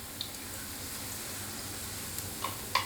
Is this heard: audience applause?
no